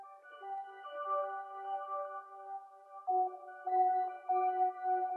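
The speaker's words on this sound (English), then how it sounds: "we're adding Effectrix, then some flanges, then some chorus, then a little bit of delay" Synth arpeggio run through Effectrix, flanger, chorus and delay, soft smeared chord tones sustaining and shifting with a swirling, washed texture, quiet and alone.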